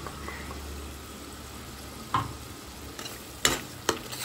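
Ground cashew paste stirred into frying spices for Kashmiri aloo dum makes a soft, low sizzle, punctuated by a few sharp spoon clinks and scrapes against the pan toward the end.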